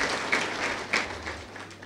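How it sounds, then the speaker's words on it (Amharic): Audience applause at a live poetry-and-jazz stage event: a steady wash of crowd clapping, fairly faint and even, with a couple of brief swells. "ለራሳችሁ አጨብጭቡ።"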